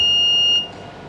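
A buzzer on an ergonomic work platform sounds a steady high electronic tone for about half a second, then cuts off, leaving low room noise.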